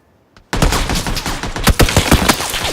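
Rapid bursts of gunfire ring out in an online video game shootout, sharp repeated shots following a quiet opening and continuing densely to the end.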